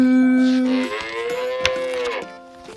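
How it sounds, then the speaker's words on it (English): A red cow moos once in a long, loud, drawn-out call that falls and wavers in pitch, heard close and alone with no talk. "I saw a red cow looking at me."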